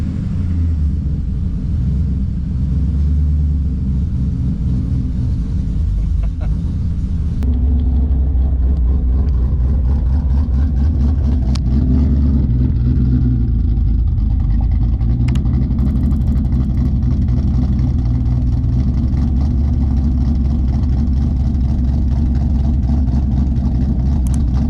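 A car fitted with a BAMA Ghost Cam tune rumbles and revs loudly and steadily for the whole stretch, a deep throbbing engine note with choppy idle surges and no voices.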